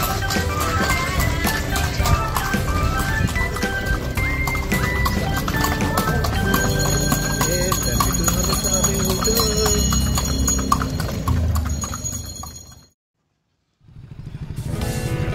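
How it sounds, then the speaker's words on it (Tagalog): Horse hooves clip-clop on a street in Vigan, Philippines, as the horse pulls a kalesa carriage. The steady close rhythm of shod hooves comes with faint bell and traffic sounds and then stops abruptly near the end. "Ang sarap pakinggan ng sapatos ng kabayo."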